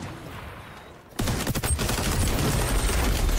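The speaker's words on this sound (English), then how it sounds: "Shot that I'm hearing. That sounds so cool." Gunfire in XDefiant, a video game shooter, erupting after a quiet second into a dense, close run of rapid automatic shots and bursts that continues to the end.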